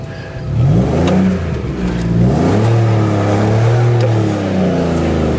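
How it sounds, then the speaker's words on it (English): A car engine with a mushy clutch revs and rises in pitch as it pulls away in a low gear, a loud, steady drone that climbs and dips across several seconds with no talk. "You could almost just let the clutch out with it idling and it'll go."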